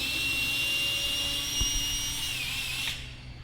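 A power drill whines loudly and steadily while backing out the screws of an RV furnace cover, with one brief knock midway before the motor cuts off near the end.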